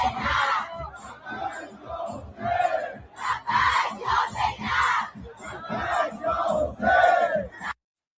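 A large crowd at a rally in Tehran shouts and chants in loud, rhythmic bursts, voices surging together for about eight seconds before cutting off abruptly.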